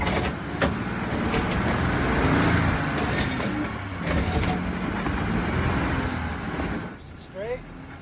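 An off-road vehicle drives at Hidden Falls Adventure Park, its engine a steady, loud rumble with bumps and rattles throughout, easing off near the end while people talk over it.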